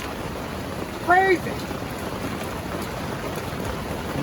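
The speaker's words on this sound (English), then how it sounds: "The roaring river flying by, the pouring rain on the tent." Pouring rain drums on a tent beside a roaring flooded river in Maine, a steady dense hiss that fills the whole stretch; a voice speaks briefly near the start.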